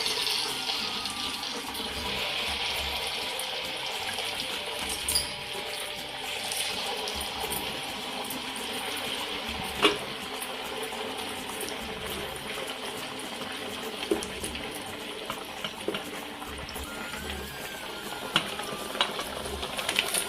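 Apallu dough balls fry in hot oil, giving a steady, moderate sizzling hiss throughout with scattered small pops and crackles, no talking.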